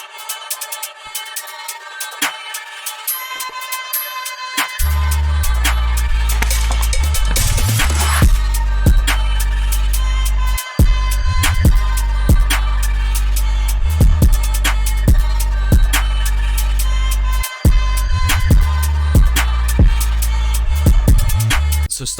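A loud UK drill beat built from a flipped vocal sample plays: sparse intro, then heavy sliding 808 bass, rapid hi-hats and snares, with two brief dropouts before it resumes.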